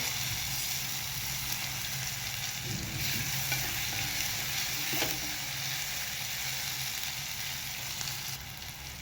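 Soaked cashews sautéed in a pan for a dhaba-style kaju masala gravy, a continuous close frying sizzle with brief stirring scrapes throughout, no voices.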